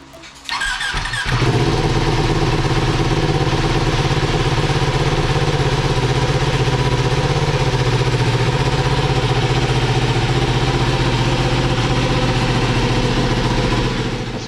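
A Vyrus 988 motorcycle engine starts and runs steadily, loud and close, with a constant droning tone and a faint whine sustained throughout.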